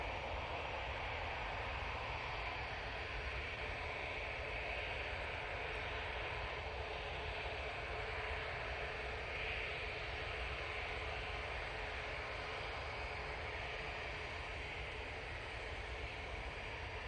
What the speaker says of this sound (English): On final, though, we do have this Ryanair 737 Max 8 coming in from Paphos